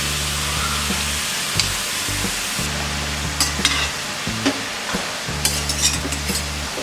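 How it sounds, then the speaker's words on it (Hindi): Three boiled, mashed potatoes are stirred into a vegetable mixture frying in a pan for veg cutlets, with soft scraping and occasional spoon clinks over a steady low sizzle and a humming background tone. "अब हम इसमें डालेंगे ये 3 आलू, जिसे हमने बॉईल करके मैश कर लिया है।"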